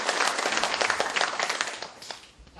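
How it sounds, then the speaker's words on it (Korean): An audience at a happiness lecture for county government officials breaks into dense applause, many hands clapping together, then fading off toward the end. "맞다면 박수 한번 부탁드립니다."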